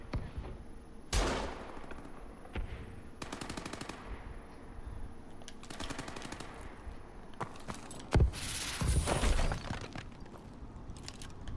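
Continuous video game gunfire, rapid automatic bursts rattling in several separate stretches with a sharper close crack near the end, loud over a steady game background.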